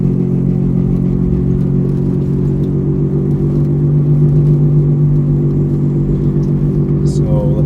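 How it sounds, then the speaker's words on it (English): A 1996 Volvo 850 Turbo with a worn right front wheel bearing drives along, giving a loud, steady low droning hum and road rumble from inside the car without a break. "It's making an awful noise from the right front tire."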